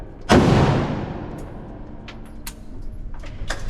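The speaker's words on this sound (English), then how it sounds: "How's the kick on the shotgun?" A shotgun fires once at an outdoor shooting range, a loud close blast with a long rumbling decay, followed by faint clicks and handling noises.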